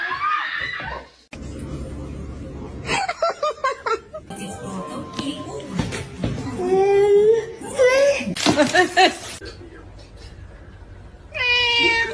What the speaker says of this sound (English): He's a very loving cat.